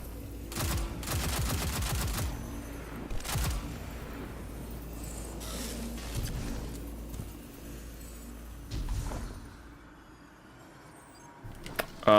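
Gunfire in the video game Destiny, scattered bursts and single shots mixed with explosions and effects, fairly quiet overall with uneven gaps between volleys.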